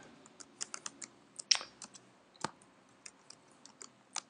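Sparse keystrokes on a computer keyboard while typing text, a run of light, separate clicks at an uneven pace, close and quiet with a few sharper taps.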